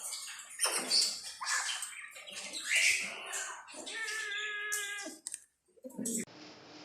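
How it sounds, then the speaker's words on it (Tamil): A cat at a pet and bird market in Dubai gives several meows and cries, moderately close, with some clicks and bird-like chirps around it and a short quiet gap near the end. "பாருங்கள், இது ஒரு கேட்டு."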